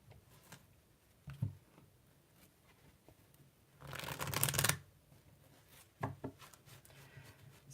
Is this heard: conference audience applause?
no